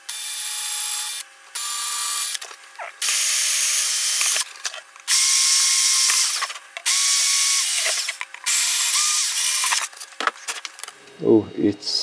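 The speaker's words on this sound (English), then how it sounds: "Take this rather small drill." Small power drill boring holes while fitting a Raspberry Pi touch screen build, a loud close whine in several bursts of one to two seconds with short pauses between, ending in a few clicks and handling knocks.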